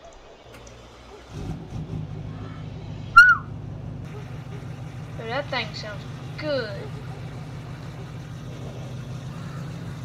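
A pickup truck's engine starts up and settles into a steady, low idling rumble that continues to the end. A few voices and a brief whistle-like call sound over it.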